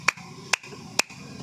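Three sharp, flat-handed claps in the kinnar style, evenly spaced about half a second apart, close and crisp over a faint background hum.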